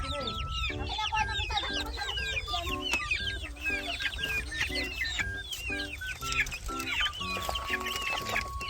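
Pet backyard chickens cluck steadily at feeding time, many overlapping calls from a close flock with brief rooster-like notes, filling the whole stretch without pause.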